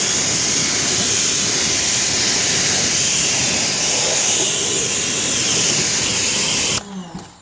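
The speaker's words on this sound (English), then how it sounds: "this is where you want to do a real thorough rinse" A car wheel gets a thorough rinse with a pressure washer, a loud continuous hissing water spray held steady for nearly seven seconds before it cuts off abruptly, followed by a few faint drips and knocks.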